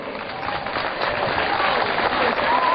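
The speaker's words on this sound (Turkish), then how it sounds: "Bir alkış bekliyorum." Audience applause at a Turkish municipal gathering, a dense, continuous patter of many hands that builds slightly in loudness across the short stretch.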